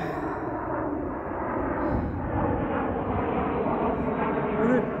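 A military aircraft on a training flight roars overhead as a steady, loud broadband drone near a lakeside bicycle path, with someone speaking over it.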